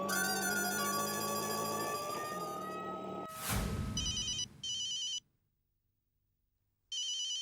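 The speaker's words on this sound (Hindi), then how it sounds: "जेठालाल का फोन" A telephone rings in bright repeated electronic bursts, separated by a sharp whoosh and a short silence before ringing again.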